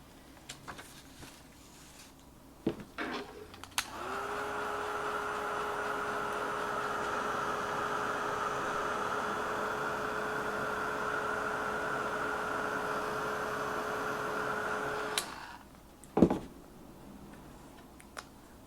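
A heat tool blowing over embossing powder on a stamped card, a steady whirring hum of about eleven seconds that starts and stops with clicks, with light handling sounds before and after.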